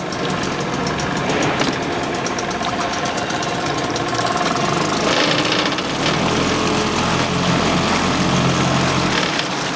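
A small outboard motor runs loudly and steadily close by, its droning engine note shifting slightly in pitch midway through.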